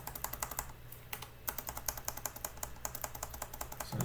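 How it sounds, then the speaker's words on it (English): Rapid clicking keystrokes on a computer keyboard, a quick irregular patter of close taps with a few brief pauses, heard alone. "So I'm just going to backspace all this out."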